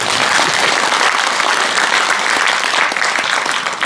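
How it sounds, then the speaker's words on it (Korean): An audience at a book launch event in Daegu applauds, with dense, continuous clapping that holds steady and loud for the whole stretch. "박수 한번 쳐주세요."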